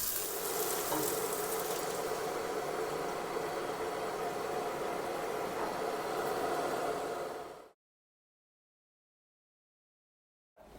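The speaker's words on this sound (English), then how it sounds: "just quickly fry the ingredient." Curry ingredients fry in a pan with a steady, broadband sizzle that holds at an even level for several seconds, then cuts off abruptly into silence.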